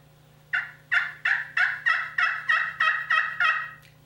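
Slate turkey friction call worked with an Osage orange striker, giving nine close, clear yelps in a steady rhythm, each a bright raspy note with a sharp start, alone over faint background hum.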